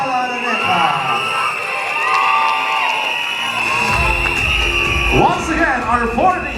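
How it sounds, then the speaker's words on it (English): A beauty pageant audience cheers, whoops and applauds loudly and steadily, with crowd shouts swelling near the end. "another round of applause for Miss Stella Araneta"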